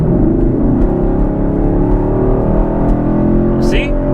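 A 2016 Chevy Camaro SS with an MBRP exhaust accelerating on an interstate, a steady low engine drone and road rumble heard from inside the cabin with the air conditioning running, continuous and fairly loud, with a brief high chirp near the end.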